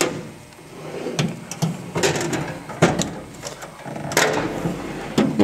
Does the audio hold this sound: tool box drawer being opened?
yes